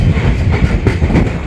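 Maa Tara Express passenger train running between Sealdah and Tarapith Road, heard from inside an AC chair car as a loud steady rumble with faint rhythmic wheel clatter, no talking.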